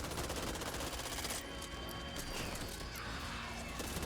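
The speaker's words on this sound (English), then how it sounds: "I'm on the minigun. Shoot, shoot, shoot." Sustained minigun fire in the co-op zombie shooter Back 4 Blood, a dense continuous roar of rapid gunfire running the full length with a brief lull partway through, loud and close.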